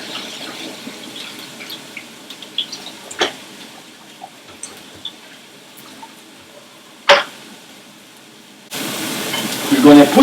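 Bacon dropped onto onions in a pan for a beef and mushroom stew, with soft scrapes and taps before a steady sizzle swells up loud near the end.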